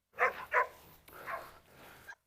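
A Rottweiler barks twice in quick succession, close and sharp, then gives a softer, drawn-out growling bark.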